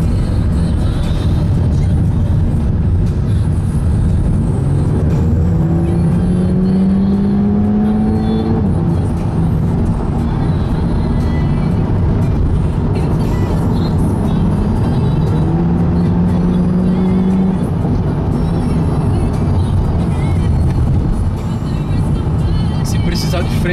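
Car revving and accelerating, a sustained engine roar whose pitch climbs in several rising sweeps with gear shifts, loud and close throughout, with people talking over it.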